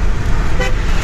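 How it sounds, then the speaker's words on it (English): A quick car horn beep sounds from a car driving along a road, a short toot rising out of steady engine and road noise. "Whenever a car drives by the other side of the road, just beep."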